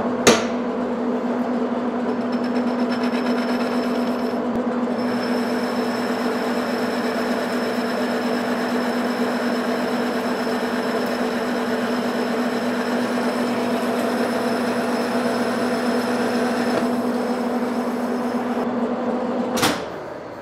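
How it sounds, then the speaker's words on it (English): A manual metal lathe boring the inside bore of a barrel nut for a hydraulic cylinder, a steady tonal whine and cutting hiss running continuously at close range, with a sharp clunk at the start and end. "Now I'll just clean up my inside bore a little bit."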